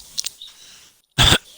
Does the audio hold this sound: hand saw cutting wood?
no